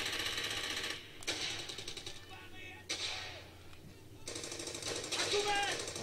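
Bursts of automatic gunfire in the PS3 war game Brothers in Arms: Hell's Highway, rapid rattling volleys broken by short pauses, with someone talking over them.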